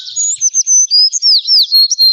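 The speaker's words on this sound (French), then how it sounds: "Quel oiseau chante comme ça? من هو؟ إنه الحسون." A goldfinch sings a bright, rapid run of high twittering notes and trills, close and clear, continuous for about two seconds with brief gaps, with no other sounds.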